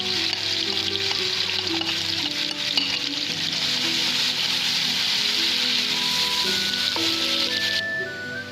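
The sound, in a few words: chopped onions frying with whole spices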